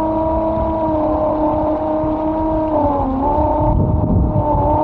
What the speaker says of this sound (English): A few problems that I'm still having is that the motor still seems to be quite imbalanced.